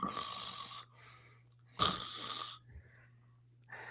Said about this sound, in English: That was an effective snore, I will say.